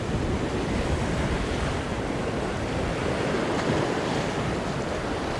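Ocean waves surge and wash over coastal rock ledges in a continuous, loud, close roar, mixed with heavy wind rumble on the microphone and no talk.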